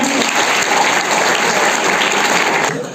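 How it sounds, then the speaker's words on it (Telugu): An audience claps loudly and steadily at a ceremony. The dense, continuous applause fills the room and begins to fade only at the very end. "ఒకసారి గట్టిగా చప్పట్లు పెట్టండి"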